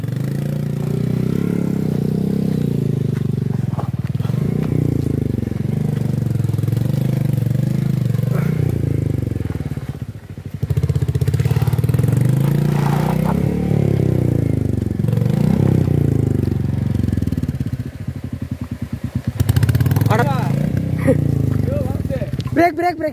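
A motorcycle climbs an off-road hill trail near a waterfall, its mid-pitched engine rising and falling with revs under near-constant talking, with some scraping and clatter over the rough ground.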